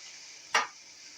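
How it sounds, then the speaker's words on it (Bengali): A pan of garlic and onion sizzles quietly, with one short burst of stirring and scraping partway through, after which it settles back to a low steady fry. No voices. "একটু নাড়াচাড়া করে আমি পেঁয়াজটা দিয়ে দেবো।"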